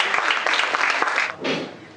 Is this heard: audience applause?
yes